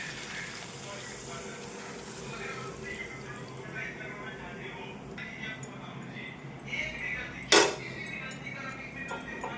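Water pours and gushes into a pot of cooking chicken with potatoes and chicken masala, a continuous splashing fill with a sharp clatter near the end.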